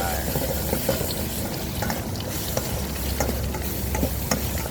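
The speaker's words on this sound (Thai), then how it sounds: "ปลาจะได้กรอบอยู่ตลอดนะครับ ผัดไป ผัดไป" Mackerel stir-fried in a hot pan, steady loud sizzling of frying oil with scraping stir strokes and small clinks throughout.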